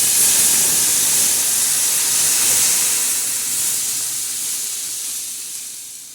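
Dal poured onto hot garlic tempering in a pressure cooker, a loud, close, continuous steamy hiss and sizzle that gradually fades over several seconds.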